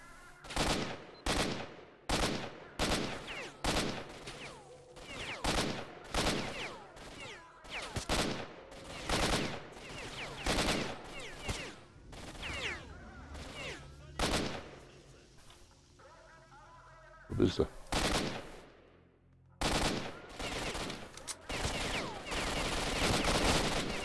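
Automatic weapon fire in S.T.A.L.K.E.R. Shadow of Chernobyl comes in repeated loud, close bursts separated by short pauses, with a voice heard between volleys and a final sustained burst.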